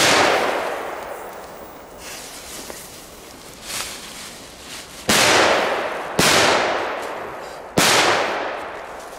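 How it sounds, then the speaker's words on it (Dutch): Firecrackers set off outdoors in Belgium, with several sharp loud bangs, faint pops early on, then three strong blasts spaced about a second apart, each trailing off into a noisy decay. "Ja, het zijn, zijn leuke knallers."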